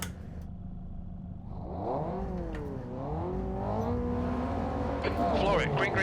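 Race cars accelerating and revving in the Assetto Corsa racing game, engine notes climbing and shifting in pitch continuously at close range, with someone talking over them.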